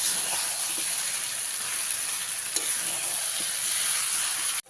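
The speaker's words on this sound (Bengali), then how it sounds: "এর মধ্যে দিয়ে দিতে হবে ভেজে রাখা আলু ভেজে রাখা এঁচড় দিয়ে খুব ভালো করে মিশিয়ে নিতে হবে" Fried potato and jackfruit being stirred into masala in a hot pan for a Bengali jackfruit-and-prawn curry, giving a steady, close sizzling hiss with faint scraping stir sounds and a soft clink near the end.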